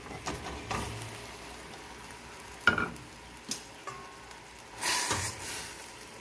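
Banana blossom goes into a pan for a coconut-milk dish, making a soft sizzle with scattered scrapes and taps of a utensil and a louder burst near the end, fairly quiet overall.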